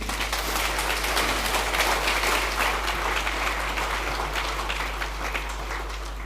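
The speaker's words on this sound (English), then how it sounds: "So please give him one more round of applause." Sustained applause from a crowd at a live event after a speaker, steady broadband clapping that holds for several seconds and then eases off slightly toward the end.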